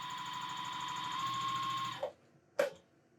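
A JUKI TL-2010Q sewing machine stitches chiffon with a steady, close, even motor whir that runs for about two seconds and then stops. Two short mechanical clunks follow, likely from the knee lifter or presser foot.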